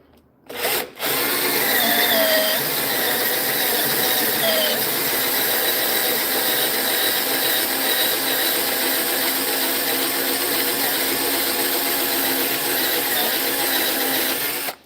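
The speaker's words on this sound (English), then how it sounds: "Yeah, corded drill definitely." Corded power drill boring a hole through wood on a woodturning project, a loud, steady high-pitched whine after a brief start, running continuously with slight pitch shifts as the bit cuts through.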